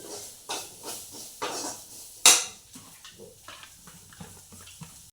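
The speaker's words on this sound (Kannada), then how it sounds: "ಇಲ್ಲಿ ಕಬಾಬ್ ಫ್ರೈ ಮಾಡ್ತಾ ಇದ್ದೇನೆ" Kebab fries in a pan with hissing sizzle and repeated clinks and scrapes of a utensil against the pan, one sharp loud clatter in the middle.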